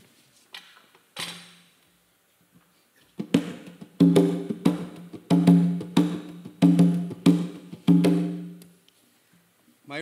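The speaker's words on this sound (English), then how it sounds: "So the conga rhythmic pattern sounds like this." Conga drum playing a rhythmic pattern, several sharp groups of hand strikes with resonant low tones repeating in a steady cycle after a few sparse taps, fairly close and alone.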